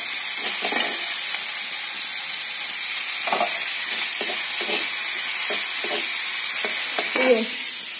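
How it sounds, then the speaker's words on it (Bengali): Flat beans (shim) fry in a pan with a soft, steady hiss. Stirring knocks and scrapes come and go at intervals, and the sound is close with no voices. "এটাকে ভেজে সিমটাকে ঢেলে দেবো"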